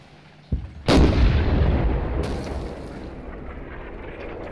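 A loud gunshot or artillery blast fires at the players in a tank-and-infantry war game, preceded by a smaller pop, then a long rumbling decay with a second faint report, no talk.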